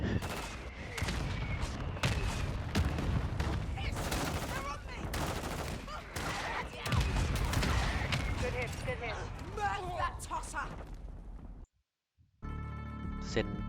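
A deployed sentry gun killstreak fires in Warzone 2.0, rattling off dense bursts of automatic gunfire that continue nearly nonstop, then cut to a brief silence before the battle sound returns.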